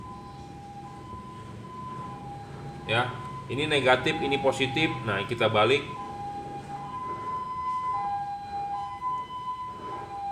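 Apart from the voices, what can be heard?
siren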